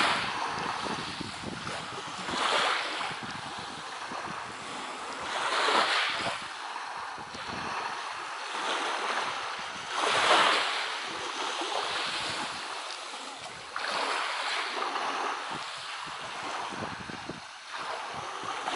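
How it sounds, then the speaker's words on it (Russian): Sea waves roll in and wash out in slow repeating surges, with wind blowing steadily across the open Black Sea shore at Lazarevskoye on a sunny October day. "Шум моря."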